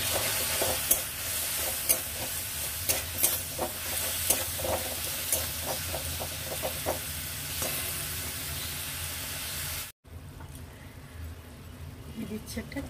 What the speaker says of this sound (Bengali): জল দিয়ে মশলাটা একটু কষিয়ে নেব।